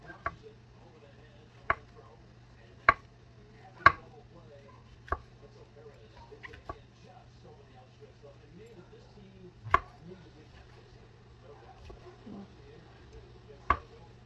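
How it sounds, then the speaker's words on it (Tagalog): A knife slicing pizzadia thinly lands crisp, separate chopping thuds on a cutting board at an uneven, unhurried pace against a quiet background. "Hiwain natin ng manipis."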